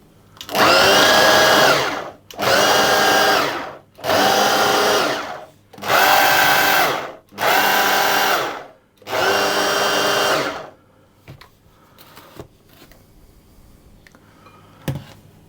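Food processor pulsing lemon cake batter ingredients, six loud bursts of whirring motor about a second and a half each with brief pauses, followed by faint clinks and scraping.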